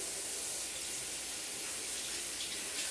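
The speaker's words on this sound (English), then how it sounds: "you're going to adjust the water and turn on the water" Water runs from a tap for hand washing, a steady broadband hiss that stays even and fairly soft with no voices.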